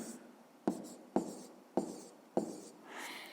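Hand-writing a fraction with pen on paper, a close quiet scratching broken into four short strokes with sharp taps where the pen lands, then a softer continuous scribble at the end, with no speech.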